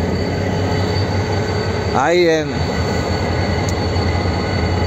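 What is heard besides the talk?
Tren a las Nubes train wheels squealing, locomotive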